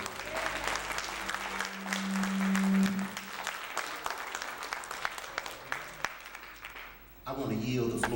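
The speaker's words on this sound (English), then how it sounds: "Give him another round of applause." Applause from a congregation at a Black History celebration in 2019, a steady round of clapping filling the space, with voices talking over it and a brief lull near the end.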